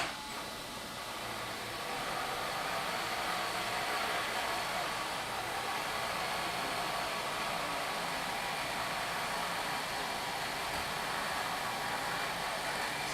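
A bent shaft on a boat build spins and rubs, giving a steady, loud broadband whirring hiss with a faint rubbing undertone that holds unbroken throughout, no talk over it.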